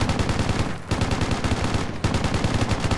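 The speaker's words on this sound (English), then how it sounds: "there's some assholes from the arch direction shooting at us" Rapid rifle fire in Project Reality hammers continuously in loud, close automatic bursts, with two brief pauses breaking the stream of shots.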